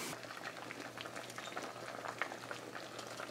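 Salted codfish simmering in a pot of water, giving a steady bubbling boil with soft popping and gurgling throughout, close and continuous with no talking.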